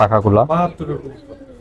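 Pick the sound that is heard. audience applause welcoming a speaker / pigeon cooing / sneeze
pigeon cooing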